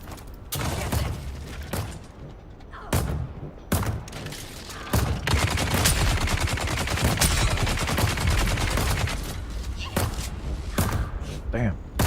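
Rapid bursts of gunfire from the video game Dune: Awakening crackle close and loud in a dense, sustained volley with short pauses between strings of shots, while a voice talks over the action.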